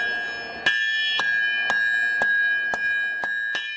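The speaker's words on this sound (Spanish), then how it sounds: "Y a forjarlo." Hammer blows forging a round steel rod for a key at a blacksmith's forge, seven sharp metallic strikes in a steady rhythm, each ringing out over a constant high whine in the background.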